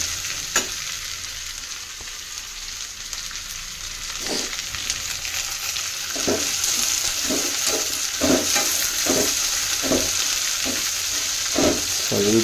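Chopped vegetables sizzling and frying in a hot pan, a steady hiss broken by repeated scraping and stirring strokes that grow busier toward the end, with no talk.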